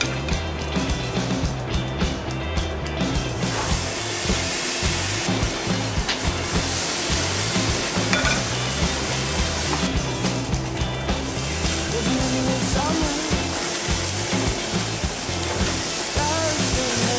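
Miso-marinated pork chops sizzle loudly and steadily on a grill, a dense, continuous hiss with faint crackles throughout.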